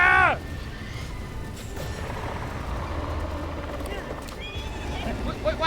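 A horse in a video game gives a sharp whinny at the start, then its hooves clip-clop steadily under a busy game background, with another neigh near the end while a person talks.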